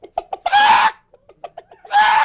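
A voice imitates a hen clucking, with a few short staccato clucks followed by a long, loud, squawking cackle, then more clucks and a second drawn-out cackle, all close and prominent.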